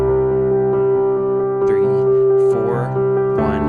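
A worship piano rhythm pattern walks up a chord progression as single notes, no full chords, played steadily and up close; a voice briefly counts over the playing.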